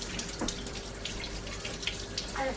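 A tap runs while a small child washes hands at a sink, giving a faint, steady watery hiss with a few soft splashes and drips.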